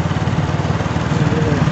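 A 24V 250W conversion kit motor on a homemade electric bicycle spins steadily, giving a loud, continuous whirring hum with a fast rhythmic pulse, close by and with no talking.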